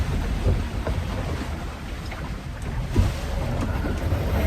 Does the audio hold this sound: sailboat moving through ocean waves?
yes